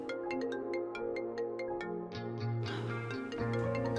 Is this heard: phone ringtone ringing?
yes